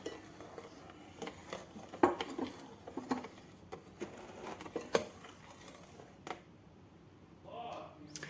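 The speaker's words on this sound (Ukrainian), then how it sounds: "додаємо до яєць інших інгредієнтів, і все це добре перемішуємо" Eggs and other plum cake batter ingredients are stirred in a bowl, giving soft scattered clinks and scrapes at low volume, with a voice talking at times.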